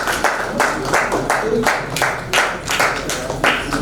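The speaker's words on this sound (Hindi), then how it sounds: "अमित भाई के लिए एक जोरदार ताली होनी चाहिए।" An audience at the second Prayag Lokrangotsav 2024 folk festival breaks into loud, sustained applause, dense clapping that swells and dips in waves throughout.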